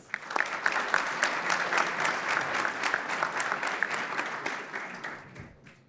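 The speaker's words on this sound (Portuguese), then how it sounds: "Uma salva de palmas." Audience applause at a talk on careers in the financial market: a dense, steady patter of many hands clapping that swells briefly, then thins and fades out near the end.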